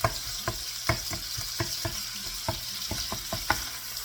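Meat browns and sizzles in a pan for egg rolls, a steady frying hiss broken by a series of spoon scrapes and clacks against the pan as it is stirred, close and alone.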